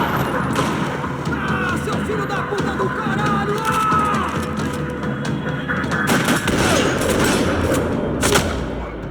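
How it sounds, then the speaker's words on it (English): Gunfire in the Max Payne 3 video game, rapid overlapping shots and bursts in a parking lot, loud and sustained with sharp cracks and booms near the end. "Another parking lot rattling with gunfire."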